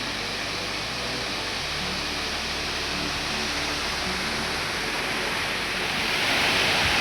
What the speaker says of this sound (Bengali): ওই ওপর থেকে জলটা পড়ছে।